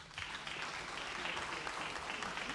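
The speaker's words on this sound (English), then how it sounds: "Ladies and gentlemen, another round of applause and congratulations to Dr. Dr. Roannie Shiu." Steady applause from an audience at a climate report launch, a soft, even patter of many hands clapping that continues without a break.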